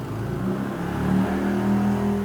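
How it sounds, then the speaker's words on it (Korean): Motorcycle engine passing outside, a steady droning hum with a slight rise in pitch, heard continuously from a moderate distance over a quiet indoor room. "저 오토바이 소리 들리죠?"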